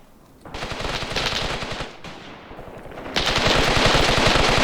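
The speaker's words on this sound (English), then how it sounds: "The machine gun on the back of the turret works." Tank turret machine gun firing in the Graviteam Tactics war game, sustained rapid bursts that grow louder and denser, with a brief lull near the middle before heavier continuous fire resumes.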